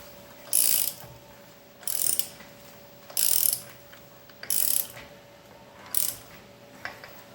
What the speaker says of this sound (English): we'll just get them on and get them snugged up with a ratchet